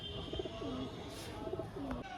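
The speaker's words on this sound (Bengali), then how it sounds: "আসুন পরের পায়রাটি দেখাই" A pair of pigeons, shown as breeding stock for sale, coos close by in two soft, throaty rolling phrases, each ending in a drawn-out note, over a low background hum.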